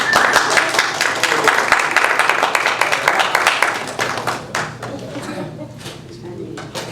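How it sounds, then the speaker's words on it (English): An audience applauds a performer with dense, steady clapping that gradually thins out into scattered claps and fades. "give everybody get a round of applause"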